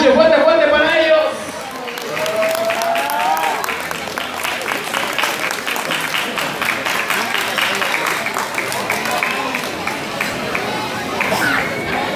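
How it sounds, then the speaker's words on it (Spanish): Applause at a family quinceañera celebration: a crowd claps steadily and warmly after a brief moment of amplified speech, the clapping sustained at an even level throughout. "ese fuerte aplauso que se escuche, fuerte, fuerte para ellos"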